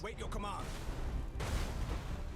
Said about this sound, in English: the particle whips are now hitting me and they are doing work